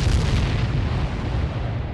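Huge underground mine explosion from the 1864 Civil War siege, a deep rolling boom that roars loudly and steadily with heavy low rumble, no voices present.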